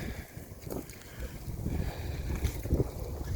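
Wind on the wet, muddy coast at Mostyn, North Wales, at a sea fishing spot, buffets the microphone as a constant low rumble with gusts swelling toward the end.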